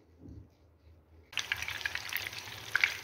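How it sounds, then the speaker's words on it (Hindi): Eggplant pieces frying in oil over a medium flame for a baigan biryani, a quiet start giving way to a steady, bright sizzle with small crackles and pops, close and alone. "बैंगन को हमने मीडियम फ्लेम पे जो है ये फ्राई करेंगे"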